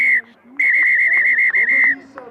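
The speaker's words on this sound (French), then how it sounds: "monsieur l'arbitre qui siffle la fin de ce match sur cette transformation réussie" A referee's whistle closes a rugby match in France's Nationale J20 division, SOC against RCHCC: a short blast, a pause, then one long, bright, slightly wavering blast of about a second and a half, fairly near and loud.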